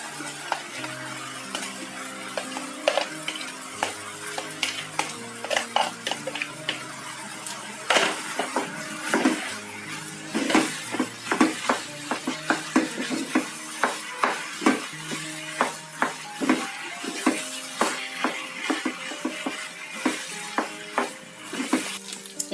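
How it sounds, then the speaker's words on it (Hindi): Mashed potatoes being stirred into fried masala in a pan for aloo sabzi, a long run of rhythmic spoon scrapes and metallic clinks against the pan over a soft cooking sizzle, close and steady, no speech. "ये आलू मसाले में अच्छा से मिक्स हो चुके हैं।"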